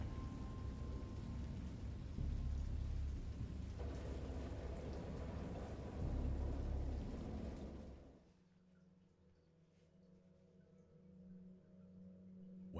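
A thunderstorm in the adventure game Dagon, heavy rain roaring steadily with deep rolling thunder before suddenly dropping to a quieter, lower rumble.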